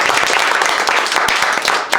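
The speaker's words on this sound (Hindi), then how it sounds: "चलिए ताली हो जाए" A group of students claps loudly at a coaching class celebration for a high math score, a dense burst of close applause that fades near the end.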